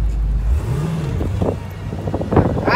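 A 1961 Chevrolet Corvette convertible with a V8 327 engine pulls away after a gear shift, its low engine note dipping and rising with a steady exhaust rumble, loud and close from inside the car.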